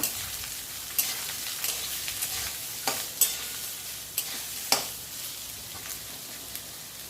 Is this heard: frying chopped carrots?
yes